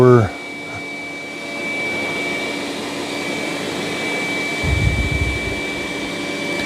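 Eufy X8 Pro and Dreame D10 Plus robot vacuums run with a steady, close whirring suction drone and a high whine, the pitch shifting briefly as suction changes.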